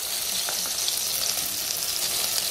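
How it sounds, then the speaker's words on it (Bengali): Soya chunks fry in hot oil, giving a dense, constant sizzle with small crackling pops, close up and steady for a few seconds. "তেল গরম হয়ে গেছে, সয়াবিন গুলো ভেজে নি"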